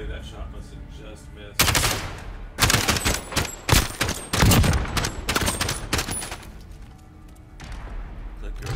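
Video game gunfire in a live-streamed shooter, loud bursts of automatic fire in several volleys over steady background noise.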